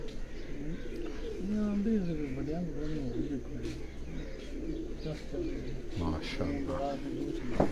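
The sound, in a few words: pigeons cooing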